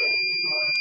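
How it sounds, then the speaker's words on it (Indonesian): The buzzer of an ESP32-based fire detection system sounds as a fire alarm, a steady high-pitched electronic tone held throughout with a faint voice beneath it. "maka buzzer akan menyala sebagai alarm kebakaran"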